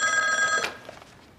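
A telephone bell rings steadily and fairly close for about half a second, then cuts off abruptly, leaving faint room tone.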